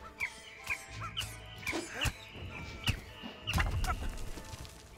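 A bird clucks repeatedly in the survival video game Smalland, short sharp calls spaced irregularly over a low background of game sounds, fairly faint.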